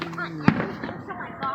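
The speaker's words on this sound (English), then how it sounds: "we're just watching the fireworks" A single Fourth of July firework bursts with a sharp bang at a moderate distance, while people talk underneath.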